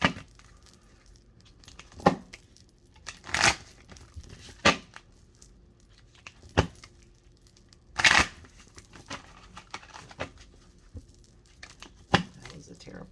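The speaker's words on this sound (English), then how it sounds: "That was a terrible shuffle." Tarot cards shuffled by hand in a reading, giving a series of separate riffling and slapping bursts every second or two, close and fairly loud, with a quiet background between them.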